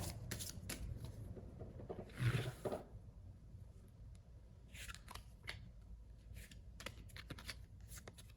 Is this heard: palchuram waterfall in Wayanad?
no